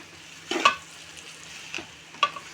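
Chili powder being stirred into boti curry in a pan, a soft background sizzle broken by a few distinct scraping stir strokes, close but fairly quiet.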